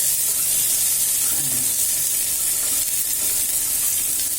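Onions sautéing in a pan for sweet corn vegetable pulao give a steady, close sizzling hiss that holds evenly throughout, with faint stirring underneath and no talk.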